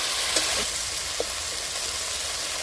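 Chopped onion and tomato bubble and sizzle in a pan after a little water is added, during the cooking of a Bengali fish curry; a steady moderate fry with a couple of faint clinks and no speech.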